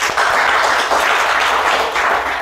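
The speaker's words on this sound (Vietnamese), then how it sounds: "Vỗ tay một cái coi nào." Audience applause fills a Vietnamese comedy talk show, a loud, dense wash of clapping sustained steadily from start to finish with no talk over it.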